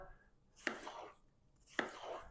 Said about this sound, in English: then you just basically slice the watermelon